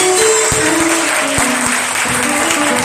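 A congregation at an evangelist's church service applauds in praise, loud dense clapping held steady throughout, with no voices standing out.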